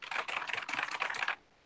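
Rapid typing on a computer keyboard, a quick run of crisp, closely spaced key clicks that stops abruptly, close and alone.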